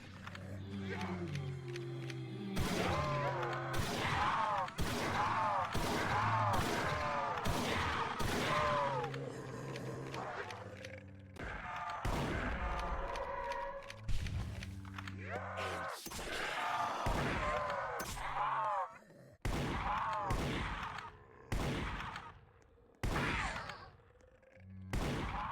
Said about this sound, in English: Up next is the Remington 870, where there were updated animations to the gun kick, pump animation, and slight touches to the reload.